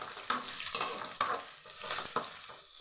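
Garlic and urad dal frying in a pan for beans poriyal while a spoon stirs them, giving a soft steady sizzle broken by regular scraping strokes against the metal, close and moderately quiet.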